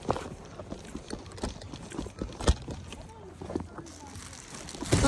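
Horse hooves clip-clop in an irregular run of hollow knocks during a cops-and-robbers video game, fairly faint and mixed with other game noises.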